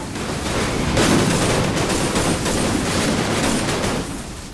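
Video game gunfire from a battle royale match with the AWM sniper rifle, a dense continuous rattle of shots running for about four seconds, fairly loud and steady, then easing off, with no voices over it.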